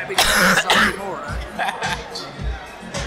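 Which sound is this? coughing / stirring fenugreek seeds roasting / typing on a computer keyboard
coughing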